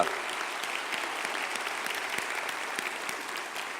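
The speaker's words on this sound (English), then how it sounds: "Let's give them a big round of applause" An audience at a conference opening session claps in a soft, steady wash heard from a distance, holding evenly throughout with a few sharper claps standing out and no talk on top.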